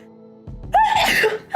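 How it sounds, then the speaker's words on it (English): A single loud, close sneeze bursts out after a short sharp intake of breath, with a faint steady hum underneath. "Sorry, that was a big sneeze. That was a genuine sneeze."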